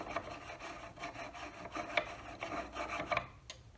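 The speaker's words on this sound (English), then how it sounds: "the counterweight shaft itself will just screw into that" A counterweight shaft screws into an iOptron CEM60 telescope mount, producing quiet rubbing, scraping turns with small metallic clicks at an irregular pace.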